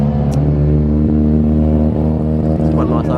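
A Mazda RX-7 drift car's engine runs loud and close with a dense, steady harmonic roar, its pitch rising and falling slightly over a few seconds.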